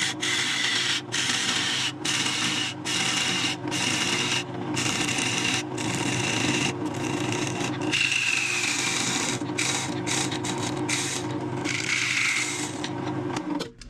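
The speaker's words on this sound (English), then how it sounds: "You can continue with the parting tool, which is what I'm gonna do" A parting tool hollows a scrap wooden piece spinning on a woodturning lathe, giving a steady close scraping and rasping hum with brief cutting pauses and no talk.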